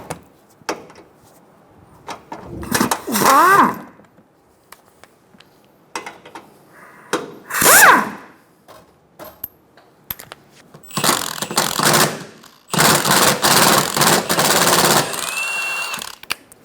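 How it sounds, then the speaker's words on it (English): Mechanical work on the front under tray of a 2014-2018 Chevrolet Silverado 1500, with several short bursts of a power tool whirring as 15mm bolts are removed, separated by quiet gaps, clicks and metallic clanks, and no talking. "Remove the two 15mm bolts in front of the tray."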